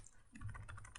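Quick, soft keystrokes on a computer keyboard, a short burst of light clicks over a low hum, close by and without talking.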